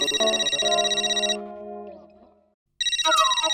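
Phone ringtone chiming for an incoming call: a bright repeating electronic melody that fades out, goes silent briefly, then starts ringing again loud and close.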